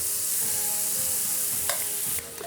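Sausage frying in a pan, a loud continuous hiss and crackle up close, with a few metallic taps and a scrape from a utensil toward the end.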